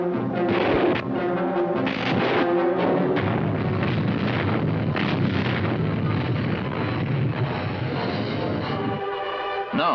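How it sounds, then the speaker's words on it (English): World War II rocket ships firing on invasion beaches: a continuous loud roar of rocket fire and blasts filling the whole stretch, with rumbling bursts and no talk. "rocket ships, new in the war, fired on the beaches"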